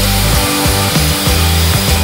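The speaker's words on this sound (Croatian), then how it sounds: "Nakon toga na jedan kraj prenesemo mjeru šibica koju možemo rezati na poteznom cirkularu ili ručnom pilom." Wood strips for a candle holder cut with a hand saw or miter saw: quick, rhythmic rasping strokes repeat about three times a second, close and loud with no talk.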